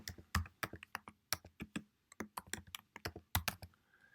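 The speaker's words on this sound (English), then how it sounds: "Let's type some text" Keys clack on a computer keyboard as text is typed into a web page builder, a close, quiet stream of separate taps in uneven bursts with short pauses, no voice.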